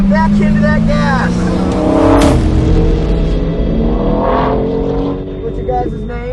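An in-car ride along a racetrack as the engine accelerates, its pitch climbing through gears with loud rising whines and a shift, while people talk over the engine noise.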